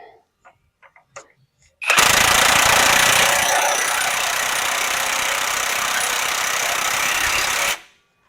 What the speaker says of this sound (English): Grab my trusty 32mm socket and my big impact.